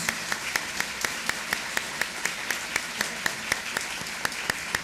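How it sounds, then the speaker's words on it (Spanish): An audience at a Colombian radio anniversary ceremony claps for the actors, a soft, distant applause with a few sharp, evenly spaced claps standing out in a steady rhythm. "vamos a darle entre todos un inmenso, inmenso aplauso a estos actores maravillosos"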